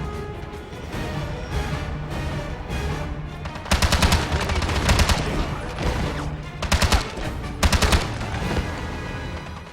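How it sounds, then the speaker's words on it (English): Assault rifle gunfire in the shooter 007: Blood Stone, with loud bursts of automatic fire breaking out around the four, seven and eight second marks over a steady bed of game music and ambience. "We're sticking with the assault rifle."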